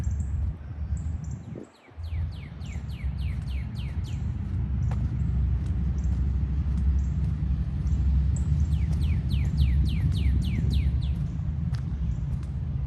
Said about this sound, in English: Ravisha, the bird noises are crazy pretty, aren't they?